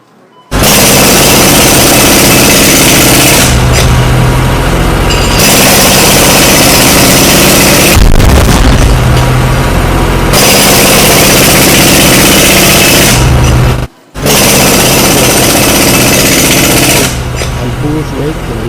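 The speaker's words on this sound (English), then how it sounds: "Now to crack the floor with a jackhammer." A jackhammer pounds a store floor inside a Menards home improvement store, loud continuous hammering in long bursts with brief pauses, close and dominant throughout.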